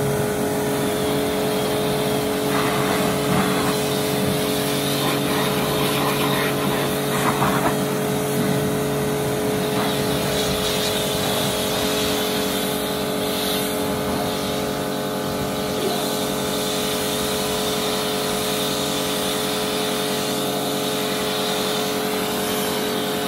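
A high-pressure washer rated around 130 to 140 bar spraying, a loud, steady motor drone with constant hissing water jet running unbroken for over twenty seconds at close range.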